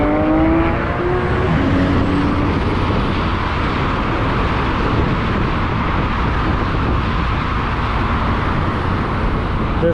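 Cars and trucks speeding by on Interstate 10 in a loud, continuous roar of traffic, with tyre and engine noise from close passing vehicles blending into a steady wash.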